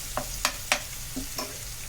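Vegetables for fried rice stir-frying in a pan, with a few sharp scraping and tossing clatters of a spatula over a steady low sizzle.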